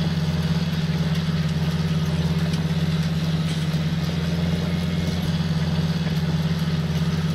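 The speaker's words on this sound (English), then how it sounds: "Looks like this toolbar is really pulling that 8330 hard." The engine of an 8330 tractor in Farming Simulator 19 drones steadily as it hauls a toolbar through the field, a constant low, loud hum with no change in pitch and no voices.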